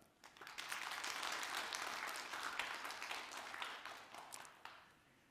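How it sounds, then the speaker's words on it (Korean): An indoor audience at a Buyeo county residents' town-hall gives a round of applause for local farmers: dense, steady clapping from many hands that swells, holds evenly and then slowly thins out, with no talking over it. "우리 농민들께도 박수 한번 쳐주셨으면 고맙겠습니다"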